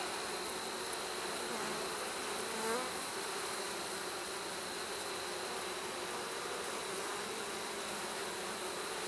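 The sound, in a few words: honey bees buzzing on a hive frame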